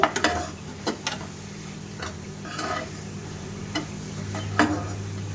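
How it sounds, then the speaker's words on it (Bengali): Sugar syrup being stirred into a sweet pitha filling in a pan, heard as scattered spoon scrapes and taps at an irregular pace over a steady low hum, close and moderately loud. "ওই চিনির শিরা একটু দিয়ে দেব দিয়ে ভালো করে একটু মিশিয়ে নেব"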